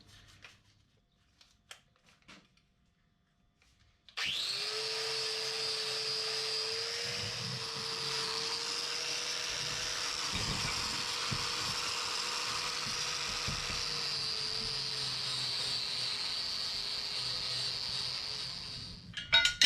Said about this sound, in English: I will use the Scotch-Brite pads still in the end, here in the flukes and the shank.